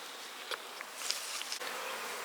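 Honey bees buzz around the hives of an outdoor bee yard, a faint, steady, high drone with a few individual insects passing closer, no voices.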